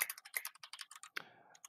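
Fast clattering keystrokes from a computer keyboard during a livestream, a dense run of close clicks that stops briefly, then a lone click and a short scuffle of softer taps, with no voices.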